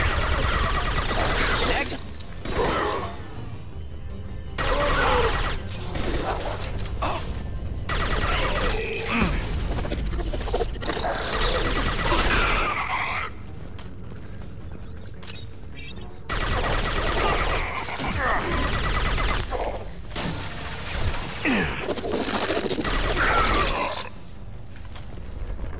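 Bursts of sci-fi gunfire in a Mass Effect 2 firefight come in dense, loud volleys separated by brief lulls, with combat clatter and occasional shouted voices mixed in.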